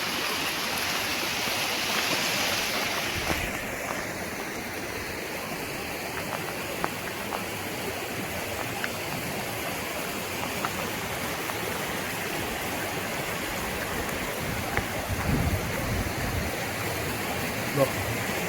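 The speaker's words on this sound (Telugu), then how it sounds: "సో ఇక్కడ మనకి చిన్న వాటర్ ఫాల్ ఒకటి ఉంది" A small waterfall spilling over rock at the Nunjarla Project near Bhumireddy Palli, giving a steady, close, full-bodied rush of flowing water that continues without pause.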